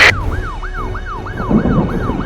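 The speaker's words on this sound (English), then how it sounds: "I can hear the fire truck sirens. Here they come fast." A fire truck's wailing siren sweeps up and down repeatedly in a steady rhythm, loud and close, over a rumbling engine and traffic noise.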